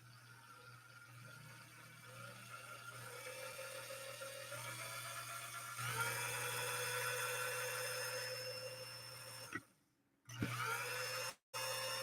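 A sewing machine motor and pulley run under a foot controller, giving a steady whirring hum that rises in speed and pitch, then cuts out briefly twice near the end.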